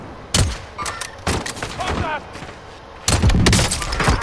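Kar sniper rifle shots in a first-person shooter video game, several loud sharp cracks with brief pauses between them, heard alongside someone speaking Polish.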